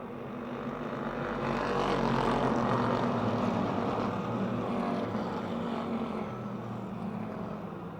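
Race cars roar around the Motordrome Speedway oval in a steady, dense engine drone that swells slightly and holds, loud and continuous, with no clear talking.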